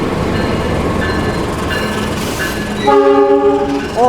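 The Wijaya Kusuma passenger train from Cilacap to Banyuwangi rumbles past from the west. Near the end a loud, steady, multi-tone horn blast rings out over the rolling wheels.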